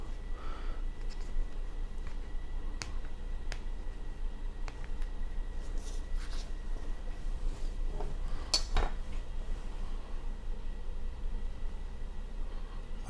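Knife trimming a frozen maple frango dessert on a cutting board, faint soft scrapes and a few light clicks of the blade against the board over steady low background hiss, no talking.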